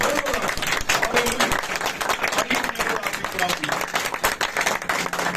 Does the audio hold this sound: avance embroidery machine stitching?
no